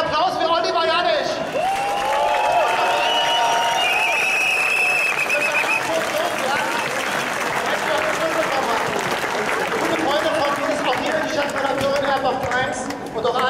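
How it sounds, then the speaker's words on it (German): Sustained crowd applause at an outdoor rally in Berlin, loud and continuous, mixed with cheering, whistles and crowd chatter while a voice carries over the top. "Ein Applaus für Oliver Janisch."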